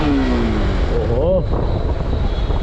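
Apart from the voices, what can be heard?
Bajaj Pulsar RS200 motorcycle engine revving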